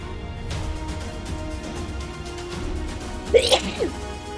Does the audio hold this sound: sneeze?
yes